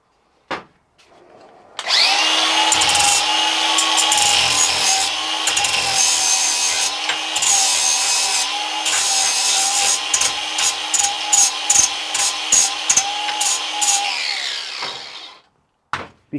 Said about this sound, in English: Doesn't take much, just basically a flap disc, and just take the nasty middle scale and oil off.